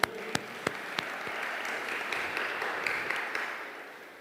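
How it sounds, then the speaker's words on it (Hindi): Audience applause at an Asian fellowship Friday prayer meeting, opening with a few sharp, spaced claps before settling into steady, moderate clapping that continues for several seconds. "जोरदार तालियां होनी चाहिए।"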